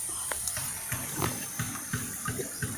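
A strong current flows through a frequently flooded stream where fish traps are being set. Steady rushing water with a regular pulse of splashes and gurgles sounds close by, with no talking.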